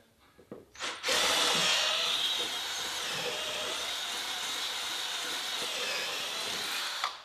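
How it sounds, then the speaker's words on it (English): A handheld drill driver whirs continuously at steady speed after a few brief knocks, its small paint paddle churning thick epoxy up close, with no voices. "we're just going to use just a normal drill driver with a small paint paddle on it"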